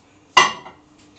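A single sharp clatter of dishes being set down close by in a kitchen before going into a microwave, ringing briefly before fading, followed by a faint second knock.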